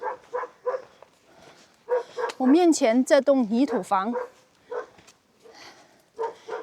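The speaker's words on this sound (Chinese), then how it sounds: "走到这里来就能听到 一阵狗吠的声音呐" A big dog in a mountain-top village barks at approaching strangers, a loud burst of several close barks and yelps, with someone talking before and after.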